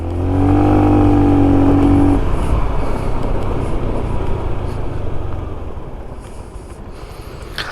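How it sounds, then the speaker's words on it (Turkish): An Altai Ristretto 125 scooter accelerates with a loud, close engine whine that climbs briefly, then gives way to rougher road and wind noise that gradually fades as it slows under braking. "Biraz hızlanalım. Frenlerini biraz test edelim."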